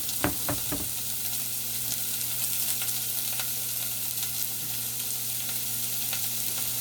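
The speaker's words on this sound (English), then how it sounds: "that's just the carrots and the celery sauteing right now" Carrots and celery sizzle steadily in a hot pan, with a few clinks of a utensil stirring at the start and a constant low hum behind.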